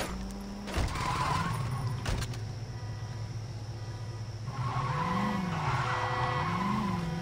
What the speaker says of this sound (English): God damn it, tires popped